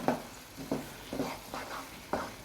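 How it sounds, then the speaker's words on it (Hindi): A spoon stirs thick beetroot halwa in a pan while it cooks, four or five soft scraping strokes at an uneven pace with a quiet sizzle between them, close by and faint. "तो इसी तरह लगातार चम्मच चला के पकाना है।"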